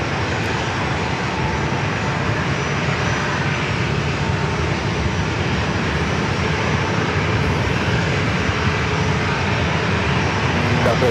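American Airlines airliner coming in to land on runway 27 at San Diego airport, a loud, steady broadband engine roar that holds constant throughout, with a voice speaking faintly beneath.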